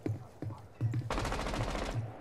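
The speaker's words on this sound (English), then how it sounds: "they're shooting back" Video game gunfire: after a few short spoken bursts, a fast automatic burst of shots rattles loud and close for about a second, followed by more talk.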